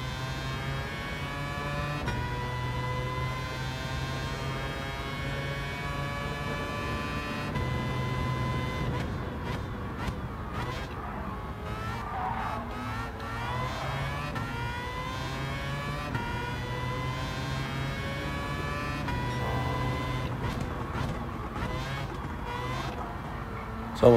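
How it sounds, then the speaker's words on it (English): A fast car races in the video game Gran Turismo 7, its engine droning and whirring steadily with rising and falling revs as gears shift, continuous and fairly loud throughout. "I do love the sound of this car."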